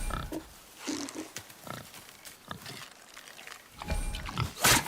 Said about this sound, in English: The wild boar's hide is thick.